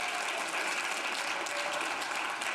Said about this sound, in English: let's give Jessica one more round of applause